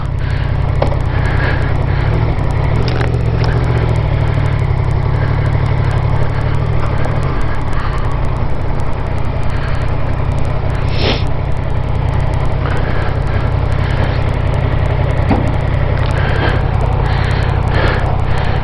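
A motorcycle with a faulty alternator runs loud and close, a constant rough engine drone with a steady low hum and occasional clicks and rattles throughout, without speech.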